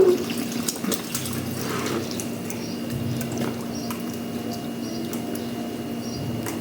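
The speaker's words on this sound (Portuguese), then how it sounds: "tem um baldinho também, ó, pra você jogar água assim" Water splashes and pours as children play with a small bucket in a filled tub or basin, a steady wet churning with bursts of splashing, close and fairly loud throughout.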